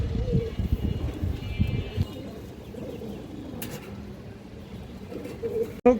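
Pigeons, including a red Monaja pigeon with a boot beak, coo low and throaty in a loft during a sale, strongest over the first two seconds before easing into a quieter murmur.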